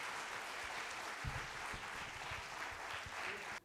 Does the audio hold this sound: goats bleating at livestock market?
no